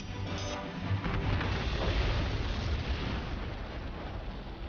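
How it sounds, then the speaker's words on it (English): A big explosion in an animated Boba Fett versus Predator fight, heard as a sustained, dense roaring rumble that holds steady at moderate loudness for several seconds, with no talking over it. "Was that Predator doing his big explosion?"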